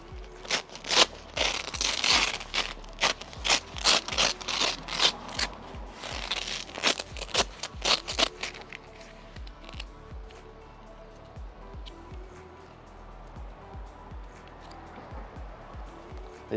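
Velcro straps ripped open one after another on the cover of a Yakima SkyRise rooftop tent in a Rivian R1T truck bed, a rapid run of loud close tearing bursts for about eight seconds, then quieter handling rustle.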